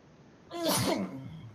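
A single sharp sneeze bursts out close by, loud and brief, trailing off into a quiet room.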